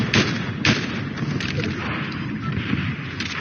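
Video game gunfire crackles with a few sharp shots early on, followed by a busy run of rapid, mid-level blasts and booms.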